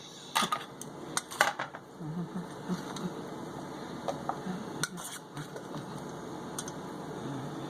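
A traditional wooden-style masher works mofongo in a bowl, giving scattered knocks and clacks in uneven bursts, close and fairly quiet, with clatters of utensils between strokes.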